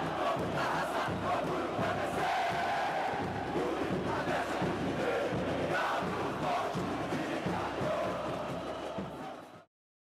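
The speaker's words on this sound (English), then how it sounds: "this crowd is awesome" Brazilian football fans in a packed stadium chant together in loud, rhythmic waves, a dense roaring crowd with repeated shouted phrases that swell and fall before cutting off abruptly.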